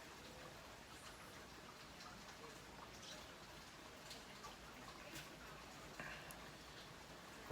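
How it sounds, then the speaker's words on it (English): Faint, steady patter of rain falling outdoors after a long dry spell, soft and diffuse with occasional light drips standing out near the end. "there's nothing like smoking a pipe, sitting outside and just listening to the rain"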